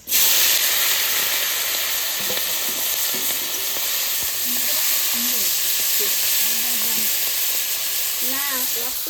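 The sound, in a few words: prawns frying in oil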